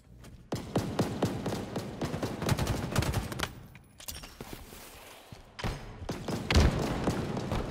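Gunfire and grenade blasts from a shooter video game: dense rapid bursts of shots and heavy thuds that run almost continuously, loud and close, with brief lulls.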